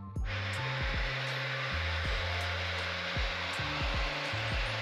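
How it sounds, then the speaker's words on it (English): A hair dryer, used in place of a heat gun inside a Ford Transit van, blows with a steady, loud airy roar, broken by repeated low knocks and clunks nearby. "We don't have a heat gun, we just have a hair dryer."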